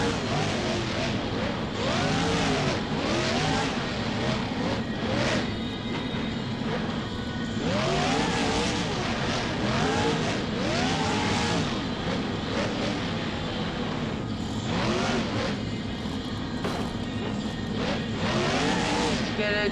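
A monster truck in BeamNG, driving through a multi-truck freestyle run, revs its engine hard in repeated rising and falling surges, loud and near throughout, with commentary talking over the roar.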